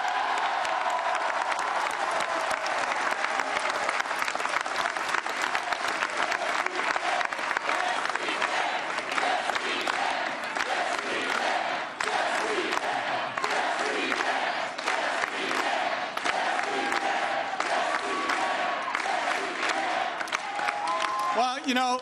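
A large crowd at Scott Brown's victory speech claps and cheers loudly and without a break, with whoops and shouts rising over dense, steady applause.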